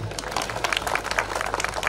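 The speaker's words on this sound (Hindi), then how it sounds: "मेरे सम्मान में भी एक बार ताली बजा दीजिए" An audience at a birthday celebration breaks into brief applause, a dense patter of many hands clapping close and fairly loud.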